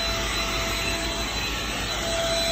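A vacuum cleaner running in the bedroom of a converted bus, a loud, constant, close-up whining roar with a steady tone and no talk over it.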